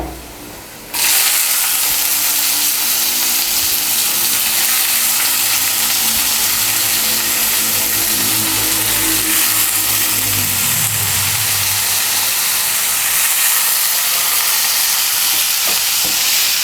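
Wet radish greens hit hot oil in a pan for Bengali-style mulo shaak, setting off a sudden loud, steady sizzle that continues with stirring clatter and no voices.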